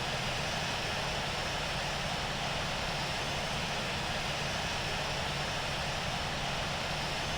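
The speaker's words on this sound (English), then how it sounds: "There goes the plane." An Airbus A340 airliner flies in to land in a flight simulator, its engines giving a steady, broadband roar that stays constant and fairly loud throughout with no speech.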